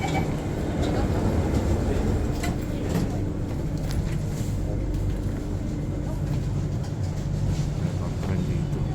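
An MRT commuter train rolls along its rails, a steady loud low rumble and rattle that fills the whole stretch without a break, with faint voices of passengers mixed in.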